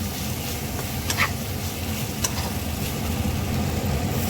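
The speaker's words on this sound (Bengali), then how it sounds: "ভেজে রাখা চাল আর কাজু কিশমিশটা দিয়ে দিতে হবে আর মশলার সাথে ভালো করে নাড়িয়ে" Pre-fried rice with cashews and raisins is stirred through spices in a pan, giving a low rumbling sizzle with a few soft scrapes of a spoon, close and steady, with nobody speaking.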